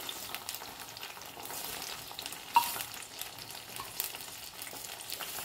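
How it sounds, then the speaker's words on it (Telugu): Boiled corn kernels fry in oil, giving a soft, continuous crackling sizzle with a few brief louder pops. Nothing else is heard. "ఇప్పుడు బాయిల్ చేసిన కార్న్స్ మనం ఆయిల్ పెట్టి వేయించుకోవాలి"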